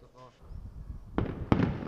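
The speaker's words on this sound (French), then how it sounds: "le coup de canon tiré depuis Jérusalem-Est annonce que le jeûne quotidien est terminé" A Ramadan sunset cannon shot in East Jerusalem marking the end of the daily fast, heard as sharp booming reports after a brief voice, with a loud distant-sounding crack near the end.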